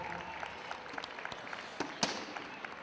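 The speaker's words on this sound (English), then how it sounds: "Give them a round of applause, everybody." A roller derby crowd claps through a steady patter of applause with scattered sharper claps, moderately distant, as voices murmur underneath.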